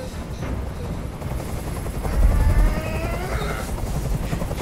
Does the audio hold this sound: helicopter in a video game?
yes